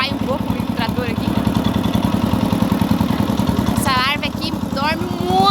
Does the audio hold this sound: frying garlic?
no